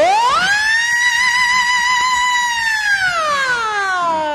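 An ambulance-style siren effect used in a Congolese music track, a loud, clear wailing tone that rises, holds steady and then slowly falls, heard alone and close.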